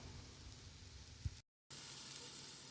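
Radish stir-fry with masala and pepper sizzles and crackles in a hot pan as it is stirred, with a brief scrape and a short dropout in the middle; no talking.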